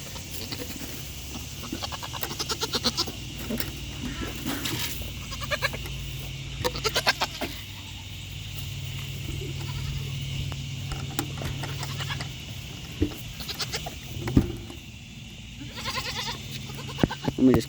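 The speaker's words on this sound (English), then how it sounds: "these goats follow me around everywhere" Goats bleat repeatedly while reaching for food in a farm pen, several close, wavering calls scattered over a quiet background with light shuffling and patter.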